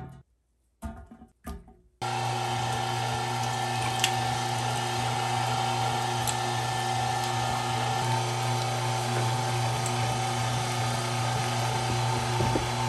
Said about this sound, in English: let's chuck it in the grinder and turn it into sausage.